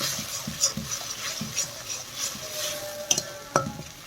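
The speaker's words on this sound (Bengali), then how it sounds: "ভালোভাবে নেড়ে নিচ্ছি।" A spatula stirs a thick rui fish head and taro leaf ghonto curry in a pan, making soft, rhythmic scraping strokes over a low sizzle, with a couple of sharper metallic taps near the end.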